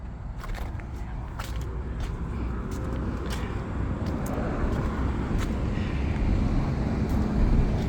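A Ford Mustang coupe engine idles steadily with a dense low rumble that swells slightly toward the end, broken by a few sharp clicks and knocks.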